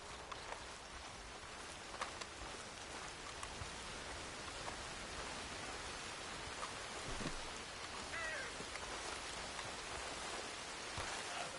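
Rain falls steadily in the open world of Red Dead Redemption 2, a soft, even hiss of drops spattering on surfaces, faint and continuous with occasional small louder taps.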